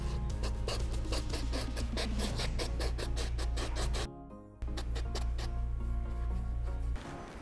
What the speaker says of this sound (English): I am done hitting up the entire shoe with the brass bristle brush